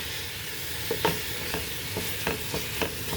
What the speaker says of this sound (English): we got the 1 pound ground beef in there. And let that cook up.